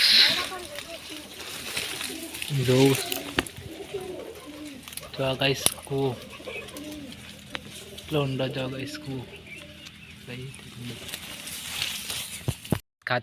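Pigeons perched inside a farm well give soft cooing calls now and then, with water sloshing below, while people talk loudly nearby over most of the scene.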